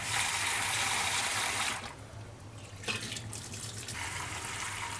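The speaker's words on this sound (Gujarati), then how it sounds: "પાણી ચોખ્ખું થાય ને ત્યાં સુધી ઘસીને ધોવાની છે આને." Yellow split dal rubbed and washed by hand in water for dal tadka, giving a steady watery swishing and splashing close by, easing into a quieter stretch midway before the rinsing picks up again.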